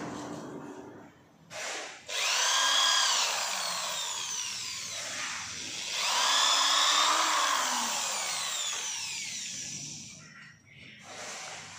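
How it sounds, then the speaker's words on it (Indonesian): Electric drill fitted with a nail-sized metal or wood bit boring holes while installing decorative trim moulding, with two sustained whining bursts separated by short pauses, fairly close and loud. "Lalu kita bor seperti ini ya."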